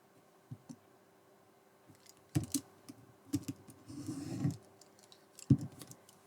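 Scissors or a blade cutting through a card collar for a shirt-shaped card, heard as a few close, sharp clicking snips spread through the quiet, with a longer rustling cut in the middle.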